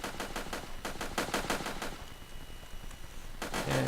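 Soldiers firing guns in the video game Ace Pilot, rapid bursts of repeated shots in a fast regular rhythm, then a short lull and a second burst at the end, moderately loud against a background hum.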